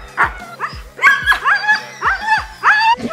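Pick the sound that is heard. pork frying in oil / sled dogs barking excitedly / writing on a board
sled dogs barking excitedly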